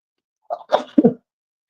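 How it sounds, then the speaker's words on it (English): A single close, sharp human sneeze in a quiet indoor setting, a short breathy intake followed by a burst and a brief trailing exhale. "You sneeze. It happens. We all sneeze, right?"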